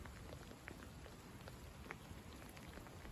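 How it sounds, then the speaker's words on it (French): Steady rain falls during a cold front's passage on a March night, a dense, even patter of drops with scattered sharper taps close by, continuous and moderately loud with no voices. "Là maintenant c'est de la pluie."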